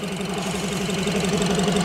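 A BMW X1 engine with about 50,000 km on it idles close by with a steady, slightly knocking mechanical rumble and vibration, continuous and fairly loud, with no voices.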